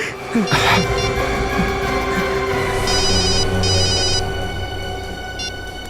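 A telephone rings loudly and close, its electronic trilling bell repeating in short bursts over a steady hum, following a brief thump at the start.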